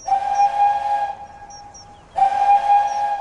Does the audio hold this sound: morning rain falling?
no